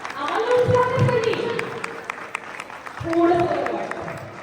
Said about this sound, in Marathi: अशा या लाडक्या लेकासाठी एक जोरदार टाळ्या होऊ दे